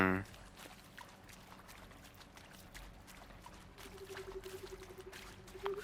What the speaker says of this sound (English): Are they not gonna hear me splish splashing around?